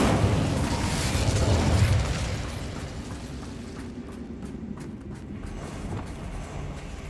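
A fiery Incendio spell blast from Hogwarts Legacy bursts loud at the start, roaring for about two seconds before fading into a lower crackling rumble that lingers.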